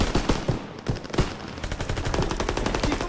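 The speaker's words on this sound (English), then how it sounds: "MGs, open fire." Machine guns open fire in Call of Duty: WWII, with a few heavy isolated shots giving way to rapid, steady bursts of automatic gunfire, loud and close, no voices present.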